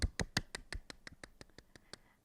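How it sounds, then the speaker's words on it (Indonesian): Applause at an online children's church service on Pentecost comes as a dozen crisp, evenly spaced claps close to the microphone, starting loud and getting quieter. "Tepuk tangan yang meriah buat Tuhan Yesus."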